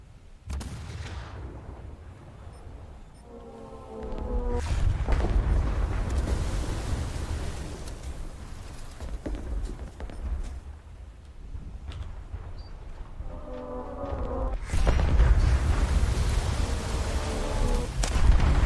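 Heavy battleship artillery volleys in the War Thunder naval game, deep booming blasts at about 4 and 15 seconds with rumbling aftermath, set against a continuous low engine-like drone.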